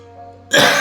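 A single sharp cough or throat-clearing burst from a person, loud and close, breaking in abruptly after a quiet, hum-filled moment.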